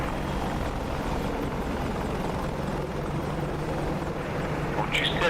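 Helicopter rotor and engine noise in the DCS World combat flight simulator, a steady loud chop and roar filling the whole stretch, with radio-style chatter faintly underneath and a brief brighter burst near the end.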